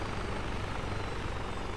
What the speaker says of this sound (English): Back in the helicopter. Take off.